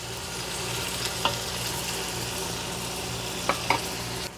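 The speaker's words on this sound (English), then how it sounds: "Stir frequently. Leave the heat high. And we want to get as much browning as we can" Beef browning over high heat in a Ninja Foodi, a steady close sizzle with a few sharp scrapes and clicks of a utensil stirring the pan, no talking.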